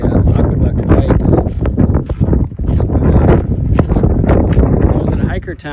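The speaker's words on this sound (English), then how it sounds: "trying to get out of the wind." Heavy wind buffets the microphone on a solo backpacking trip along the Pacific Crest Trail near an aqueduct pipe, a loud, rumbling, gusty roar persisting throughout while a person talks over it.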